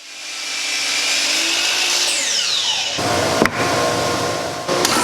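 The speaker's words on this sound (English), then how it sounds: "Then at the miter saw, I cut the legs down to length." A miter saw spins up with a rising whine and bites through wooden legs to cut them to length, a loud, close, sustained buzz with a pitch drop as the blade enters, then a clunk near the end.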